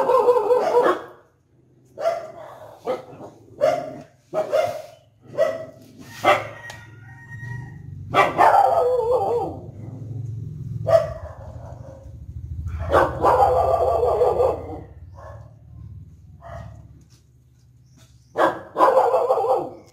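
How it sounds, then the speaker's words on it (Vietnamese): Several puppies bark in short, repeated bursts at close range, some yelps overlapping, with brief pauses between volleys and a low hum underneath. "có ai đâu cũng sủa nữa"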